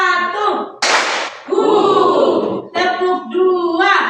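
Group of participants in a concentration ice-breaking game clapping hands in short patterned bursts, sharp claps separated by pauses, with a voice calling out between them.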